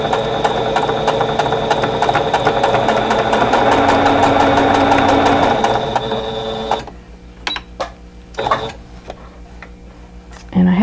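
A sewing machine stitches a quilt block seam with a steady, rapid mechanical patter for about seven seconds, then stops, leaving sparse clicks and handling noises.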